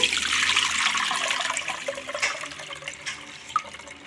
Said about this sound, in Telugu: స్ట్రైనర్ పెట్టుకొని ఇందులో వడపోసుకోవాలి